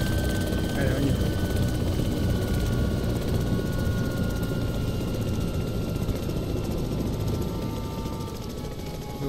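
A helicopter in the video game DayZ: rotor thumps and engine whine drone steadily and loudly throughout, with a faint high tone running over the top.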